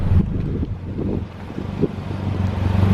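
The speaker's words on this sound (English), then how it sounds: "So there's the exhaust at idle." A 1993 Nissan 240SX coupe idles, its exhaust giving a steady, low, rumbling drone that stays close and fairly loud for the whole stretch, with no talking over it.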